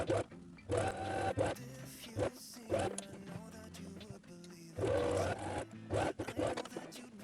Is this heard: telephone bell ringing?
no